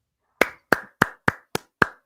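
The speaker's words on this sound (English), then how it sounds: "Clap for him, guys" Six sharp, evenly spaced claps ring out alone at close range, each a crisp, bright hit with a short decay, sounding like a single person clapping rather than a crowd.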